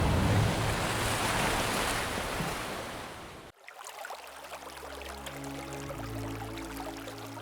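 Ocean surf washes against coral shores at Kabira Bay in Okinawa, a broad roaring wash that fades out, then gives way to a softer, nearer lapping of water with faint low tones.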